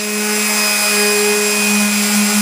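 An edge of a display build being sanded off with what sounds like a power sander, a loud continuous whining drone with a steady high-pitched hum and faint rubbing grit.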